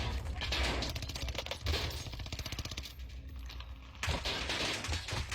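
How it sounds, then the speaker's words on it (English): Rapid bursts of gunfire in the Warzone video game, a fast rattling string of shots, sounding like automatic weapon fire, that pauses briefly and then resumes, heard fairly faintly. "Oh, I hear a gunshot."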